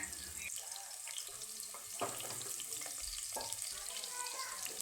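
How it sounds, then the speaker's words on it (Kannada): Onion fries in a few spoonfuls of oil in a deep pot for crab sambar, giving a quiet, steady sizzle with occasional soft stirring clinks and scrapes. "ಅದಕ್ಕೆ ಒಂದು ಎರಡು ಮೂರು ಸ್ಪೂನಷ್ಟು ಎಣ್ಣೆ ಹಾಕಿ ಒಂದು ಅರ್ಧದಷ್ಟು ಈರುಳ್ಳಿನ ನಾನು ಇದಕ್ಕೆ ಹಾಕೋತಾ ಇದ್ದೀನಿ"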